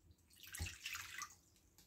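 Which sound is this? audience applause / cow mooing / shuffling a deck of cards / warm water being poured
warm water being poured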